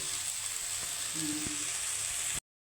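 Two dried red chillies and vegetables fry in a little oil in a kadai, giving a soft, even sizzle with a few light utensil knocks before it cuts off abruptly.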